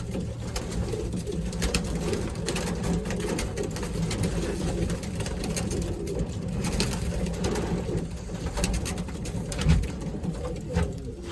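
Racing pigeons cooing inside a loft, overlapping low throaty coos from several birds, close and continuous, with occasional wing flutters and light rustling.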